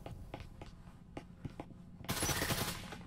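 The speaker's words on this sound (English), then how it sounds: "There's someone else just shooting" Distant gunfire in the Breachers VR video game, several faint separate shots at irregular intervals, then a louder, denser burst of noise that fills the last second.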